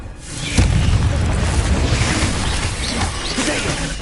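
A Confringo fire spell blasts in the video game Hogwarts Legacy, a heavy booming explosion that hits early and then rumbles and crackles loudly for several seconds.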